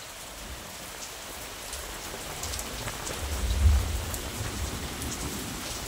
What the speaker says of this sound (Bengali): এই যে দেখতে পাচ্ছ জোর বৃষ্টি হচ্ছে কিন্তু এই মুহূর্তে।